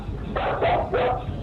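A dog gives three short, quick barks in a tight burst, close by and fairly loud over a low background hiss.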